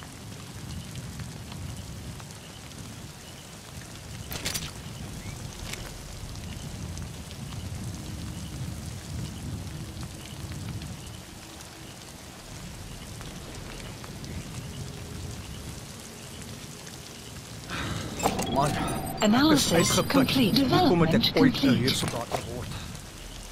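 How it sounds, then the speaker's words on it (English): Steady rainfall in the video game Metal Gear Solid V: The Phantom Pain, a continuous hiss running throughout under a calm spoken voice, swelling louder and denser near the end. "Rain. The sound of rainfall should help to mask your footsteps."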